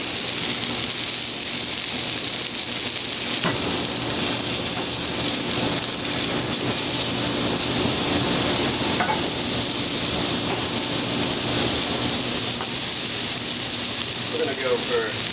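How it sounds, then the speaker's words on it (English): Steak searing in a hot pan gives a dense, constant hiss like heavy rain, loud and unbroken, with a few faint clicks under it. "We're gonna go for a nice sear, both sides."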